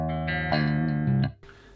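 An electric guitar played through a clean amp model on a Spark amplifier rings out a short run of sustained, bright notes and chords, loud and close, then cuts off abruptly into a faint hiss.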